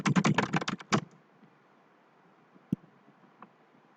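A quick run of computer keyboard keystrokes rattles for about a second, close and crisp, followed by near silence broken by one isolated key click and a faint tap.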